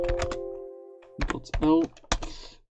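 A command typed on a computer keyboard at a Linux terminal comes through as a short burst of close key clicks, mixed in with someone speaking.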